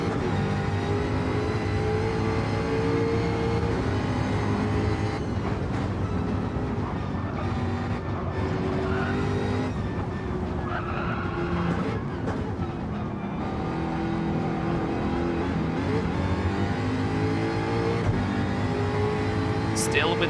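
Race cars in a racing video game on the Circuit de Sainte-Croix during a short enduro, with a steady engine drone throughout and occasional passing surges under continuous commentary.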